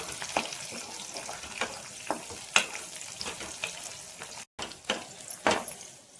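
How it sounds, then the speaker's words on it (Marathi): Crushed garlic sautéing in a pan for shepu (dill) and moong dal bhaji, a steady close sizzle broken by repeated scraping stirs and spoon knocks, with no talking. "छान असा परतून घ्यायचा आहे।"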